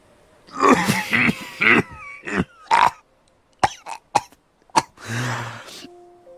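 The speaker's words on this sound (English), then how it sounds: "Mr. Poe coughed several times into his handkerchief before continuing." A man coughs in a series of harsh bursts, some spaced apart, ending with a throaty clear; close and fairly loud, no talking.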